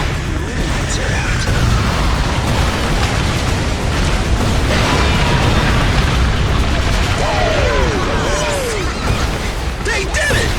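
Missile strikes and heavy booming explosions in a video game air combat mission, a loud continuous rumble of blasts with whooshing passes and radio-style voices talking over it.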